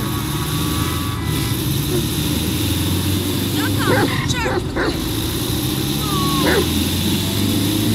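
A dog barks a few short times in Grand Theft Auto V, moderately close, over a steady engine and street drone inside a vehicle.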